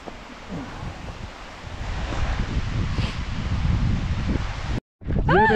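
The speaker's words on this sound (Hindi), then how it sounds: "तूफान आ गया है।" Stormy wind roars steadily around a high mountain waterfall near Mana village, a broad rushing wash with water noise mixed in, briefly cutting out before a voice begins speaking at the end.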